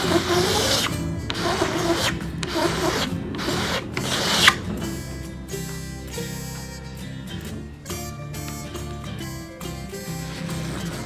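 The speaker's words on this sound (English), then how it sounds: "just scrape it off. Material is soft enough, it comes right up." A razor blade scrapes soft wood filler off a wooden surface, a steady close rasping rub with repeated strokes, briefly louder near the middle.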